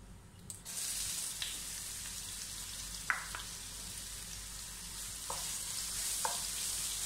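Crushed ginger and garlic sautéing in a pan for butter chicken: a steady, quiet sizzling hiss with a few light scrapes from stirring, heard close up with no speech.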